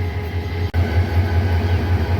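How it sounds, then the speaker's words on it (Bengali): The Bijoy Express stands at a Bangladeshi railway station, giving off a steady, loud low engine drone that holds evenly throughout, broken by one sharp momentary dropout. "বিজয় এক্সপ্রেস চলে এসেছে"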